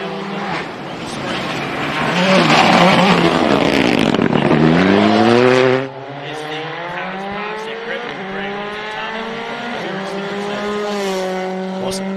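A rally car driven by Hayden Padden passes at speed on a sandy, fine-gravel stage at Rally Bay of Plenty, Manawahe, with a loud close roar of engine and gravel, then the engine note falls away as it moves off.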